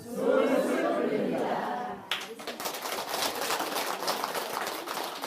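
Audience clapping at a Buddhist monk's lecture; the first two seconds are a voice, then a sudden, sustained burst of dense clapping fills the rest.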